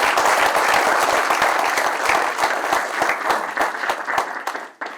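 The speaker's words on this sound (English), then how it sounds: "let's just give all of our guests a round of applause" A conference audience at a men's health event applauds its guests, a dense, steady wash of clapping that holds for several seconds before tapering off abruptly at the end.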